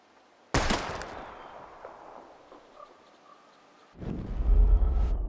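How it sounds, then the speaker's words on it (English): A single sharp gunshot cracks out loudly while bottles are shot at in Life is Strange, followed by a fading echo and a later heavier rumbling burst. "We're gonna shoot all these bottles without wasting a single bullet."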